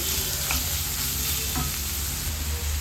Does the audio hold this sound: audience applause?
no